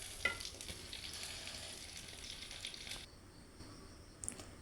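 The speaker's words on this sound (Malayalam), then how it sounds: "ഇനി അതിലേക്ക് നമ്മൾ അരിഞ്ഞു വെച്ചിരിക്കുന്ന വെണ്ടയ്ക്ക് ചേർത്ത് കൊടുക്കാം." Chopped okra fries in hot coconut oil with a soft, continuous close sizzle and faint stirring. The sizzle drops quieter near the end and no one speaks.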